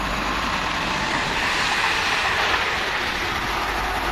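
A London Midland train passes through Cheddington station as a steady, loud broadband rush of wheels and air, constant across the whole span with faint rail rumble beneath.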